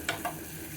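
Boiled mixed dal is tipped into a hot tomato and chilli tempering, giving a brief close sizzle with two quick soft bursts of splatter over a steady low hiss.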